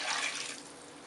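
Water is poured from a glass into coconut milk in a pot for rice. It makes a short, faint splashing pour that tapers off within about a second.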